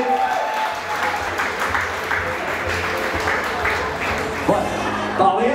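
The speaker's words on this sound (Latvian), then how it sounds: "Aplausi!" Applause rises from the audience at an award ceremony during a 25th-anniversary celebration, a dense, fairly loud and steady wash of clapping with a few brief voices and small knocks near the end.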